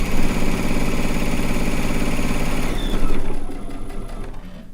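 A sewing machine stitches a rag quilt square with a steady, fast mechanical chatter that runs loud and close, slows near the end and stops with a few final clicks.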